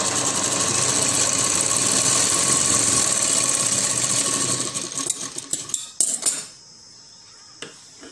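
An electric sewing machine stitches lace onto the folded underside of a designer sleeve, a loud, close, continuous whirring run that slows into separate clicks and stops, then a single faint click.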